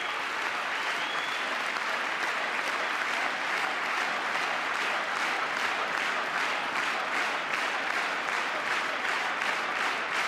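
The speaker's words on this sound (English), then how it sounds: "That was a very exciting cheer." Audience in a congressional chamber claps and cheers through a presidential address to Congress, a dense, continuous roar of applause at a steady level with no break.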